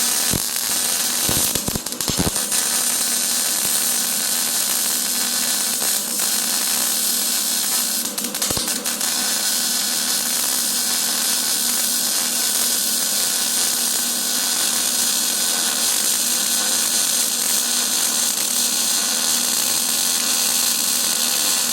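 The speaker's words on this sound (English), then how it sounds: "So right now I'm just going to go ahead and weld that up" A MIG welder runs on a commercial mower deck, giving a continuous loud crackling, sizzling buzz with a few brief stutters early on before settling into a steady bead.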